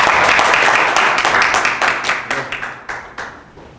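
Audience applause at an academic symposium lecture on writing systems, starting as a dense, loud wash of many hands and thinning into scattered individual claps as it fades out.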